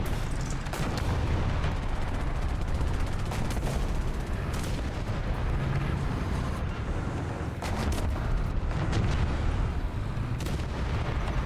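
Heavy artillery fire thunders in War Thunder tank combat, with repeated loud booms and blasts over a continuous dense rumble of battlefield noise.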